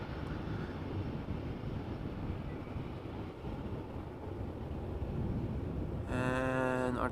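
An EasyJet airliner departs Amsterdam Schiphol Airport with a steady, loud broadband jet roar that holds throughout, joined near the end by a rising whine of distinct engine tones.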